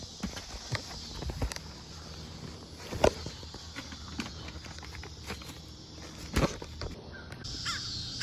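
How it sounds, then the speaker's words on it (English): Crows caw from a distance, a few harsh calls spaced several seconds apart, with soft footsteps and outdoor ambience between them, in Fort Worth. "Way down there is a murder of crows."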